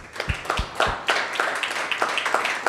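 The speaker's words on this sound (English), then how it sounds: "Let's give him a big round of applause." Conference-stage audience applause starts with a few distinct claps, then builds into steady clapping from a modest crowd, fairly close and not overlaid by speech.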